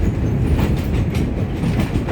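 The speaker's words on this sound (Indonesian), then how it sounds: "menikmati perjalanan kereta wisata dari stasiun Ambarawa ini nanti ke stasiun Tuntang" Tourist train riding from Ambarawa station toward Tuntang, heard as a loud, steady low rumble of rolling wheels and carriage noise with faint rhythmic clicks, no voices.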